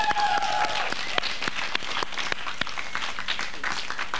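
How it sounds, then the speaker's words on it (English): Full, warm applause from a television studio audience, dense and continuous with sharp individual claps standing out, filling the whole moment without talk. "Let's give her a big, warm round of applause"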